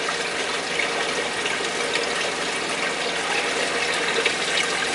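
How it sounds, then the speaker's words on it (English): A 20-gallon aquarium sump runs steadily beside a 120-gallon extra-tall tank, giving a continuous, even rush of flowing and trickling water that stays close and fairly loud throughout, with no voices over it. "20-gallon sump running on the right"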